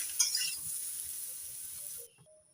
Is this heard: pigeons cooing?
no